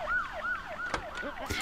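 A Lego Duplo toy police car siren wailing in a rapid, rising and falling electronic pattern, close and moderately loud, with a few clicks and knocks of play under it.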